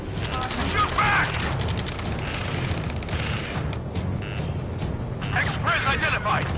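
A firefight in a military shooter video game: rapid bursts of automatic gunfire rattle and overlap continuously, loud and close, while voices shout over the shooting.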